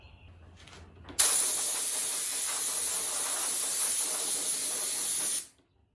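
A big air compressor, just repaired with a new tank check valve, starts up and runs with a loud, steady hiss of air pressurizing. It holds even for about four seconds, then cuts off abruptly, and no one talks.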